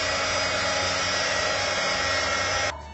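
A hair dryer blows steadily and loudly up close while drying ink on a Tim Holtz Grungeboard bracelet, a continuous whooshing roar that cuts off abruptly near the end.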